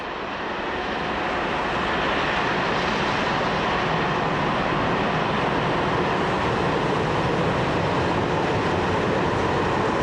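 An SNCF CC 72000 diesel locomotive hauls a full train of hopper wagons southward down from the Vosges, producing a loud, steady, unbroken rumble and roar that holds for the whole stretch with no voices.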